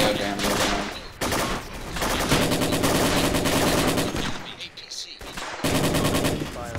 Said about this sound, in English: Enemy APC shooting.